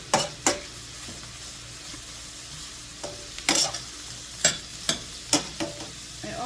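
Cabbage fries in a large pan over a hot burner, a soft sizzle under a series of sharp scraping and clattering strokes as it is stirred at irregular intervals.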